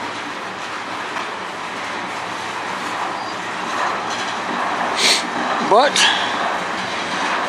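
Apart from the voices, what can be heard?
slow freight train moving into the yard in Sarnia, Ontario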